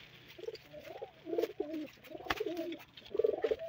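Pigeons coo on a rooftop in soft, repeated rolling calls at close range, with a quiet background and no speech.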